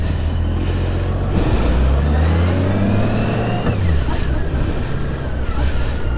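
A 2003 Honda GL1800 Gold Wing motorcycle under way, its engine droning loudly and rising in pitch as it accelerates, with heavy wind rush over the microphone throughout.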